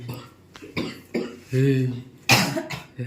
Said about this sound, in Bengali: এই সবাই কাশছে কেন?